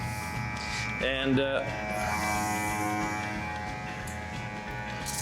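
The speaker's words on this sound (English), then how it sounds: "This is a battery-powered garden sprayer." Battery-powered garden sprayer motor running with a steady electric buzzing hum near the microphone, while a person speaks briefly over it.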